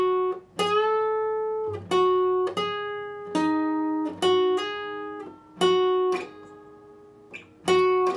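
A slow guitar phrase of about nine plucked notes, each ringing briefly before the next, with a few gentle pitch slides between them, played alone.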